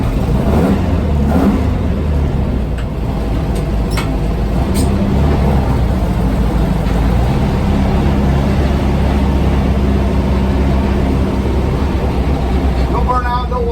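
A gutted car accelerating hard on a drag-strip time trial run, a loud continuous engine roar held steady and close throughout, with no pauses.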